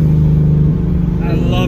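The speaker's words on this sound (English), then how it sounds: "Let's put it on track mode. Little bit of burble." A Ford Mustang with an aftermarket Gibson catback exhaust and X-pipe burbles in track mode, a brief close, loud low rumble with uneven pops.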